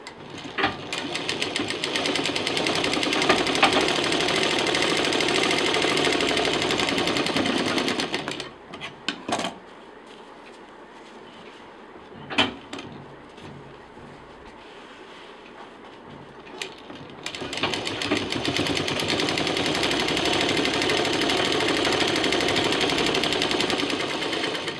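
Sewing machine stitching a zip onto a festive sling bag, running in fast continuous bursts with a quiet pause in the middle broken by a few clicks, then resuming.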